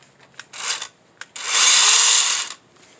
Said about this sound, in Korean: 2단 보시면 2단 그라인더 1, 2, 3단 중에 2단을 놓고 사용하는데 2단이 RPM으로 따지면 6000 RPM 정도 됩니다.